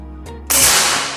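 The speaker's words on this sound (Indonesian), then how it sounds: "Oke, tembakan pertama dari unit Marauder." A Marauder PCP air rifle fires a single shot, a sudden loud, breathy crack with a hissing tail, following a faint click in a quiet room.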